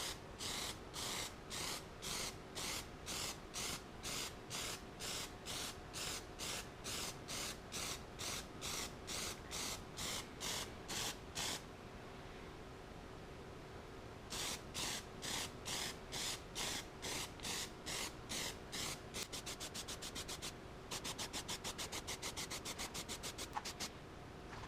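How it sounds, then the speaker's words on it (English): Plasti Dip aerosol rubber coating is sprayed onto a bike in quick repeated bursts, a rhythmic hiss of short pulses with a pause midway, then a faster run of bursts, alone and fairly close. "I'm going to put it on the same way I put on spray paint"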